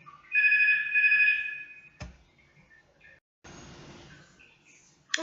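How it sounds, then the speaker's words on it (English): A telephone rings with two close electronic trill bursts, loud and near, followed by a few clicks and a stretch of soft noise before a sharp tap at the end. "Oh, there's the phone."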